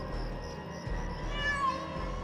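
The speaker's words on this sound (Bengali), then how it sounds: "তারপর বিড়ালটা কোত্থেকে জানি দুবার ম্যাও ম্যাও করে উঠল" A cat meows somewhere in the night, a short rising cry standing out over a steady low background hum, with no talking.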